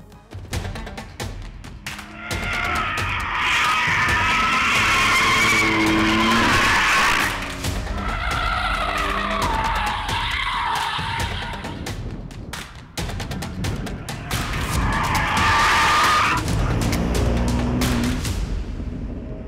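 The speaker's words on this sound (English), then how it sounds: "We were having so much fun wagging the M2 competition's tail that we picked up a puncture" A 2019 BMW M2 Competition drifts on a track, its tires skidding and squealing in long loud bursts over a revving engine, with brief lulls between slides.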